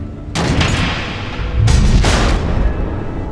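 Missiles exploding in the Batman: The Enemy Within video game, two heavy booming blasts in quick succession, loud and close, each with a rumbling tail and no talk over them.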